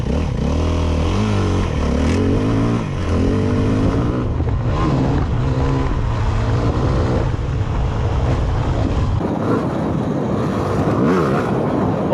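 A Yamaha WRF 250cc dirt bike ridden over bumps, its engine droning loud and continuous with shifting revs and brief throttle blips, close to the microphone and with no speech.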